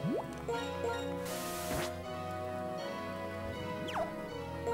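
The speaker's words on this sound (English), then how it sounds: "I'm gonna use my Repel really quick here." Repel item used in Pokemon White 2: a short chiptune jingle of rising and falling synthetic tones with a bright hissing spray burst in the middle, played alone over steady background music.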